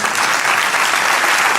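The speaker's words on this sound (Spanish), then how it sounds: "Dale un aplauso al Señor" A church congregation bursts into loud, close applause, a dense wash of many hands clapping continuously with a faint murmur of voices beneath.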